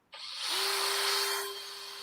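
A Makita power mixer whisks, starting abruptly and settling into a steady, moderately loud high whine that holds for about two seconds with no talk.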